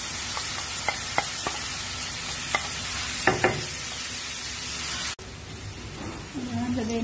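Onion and garlic sauté in a pan for homemade pizza sauce, a steady close hiss broken by several sharp taps and scrapes of a utensil, cut off abruptly and followed by quieter frying.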